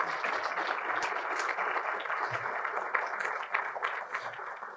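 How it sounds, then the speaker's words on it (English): A conference audience applauds steadily after a talk on ransomware, a dense, even wash of many hands clapping throughout, moderately loud with no speech over it. "Thank you for the big round of applause."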